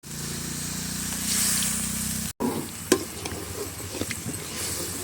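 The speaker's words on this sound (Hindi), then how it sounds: "मसाला को अब अच्छे से भुनाई कर लेंगे।" Ground masala of cumin, ginger, garlic, green chilli, onion, dried chilli, cardamom and clove frying in a pan for village-style dahi baingan, a steady close sizzle with stirring scrapes, no talk.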